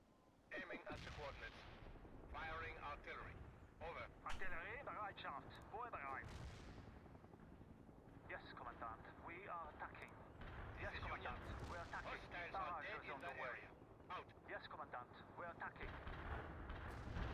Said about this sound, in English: I want more artillery on this village.